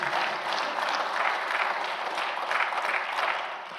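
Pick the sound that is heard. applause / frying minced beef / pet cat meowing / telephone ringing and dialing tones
applause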